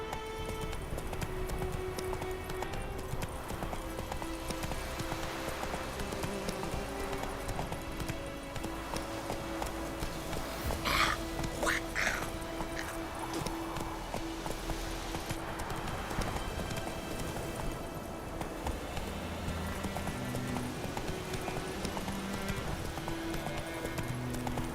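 Hooves of Roach, the horse in The Witcher 3: Wild Hunt, clip-clop in a steady galloping rhythm over game music and ambience, with a short neigh-like burst around the middle.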